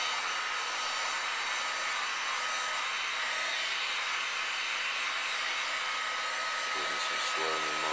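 A Black & Decker heat gun set to 2 blows hot air over a PS3 circuit board, a steady broadband whooshing roar that holds evenly throughout, near and loud, with no speech over it.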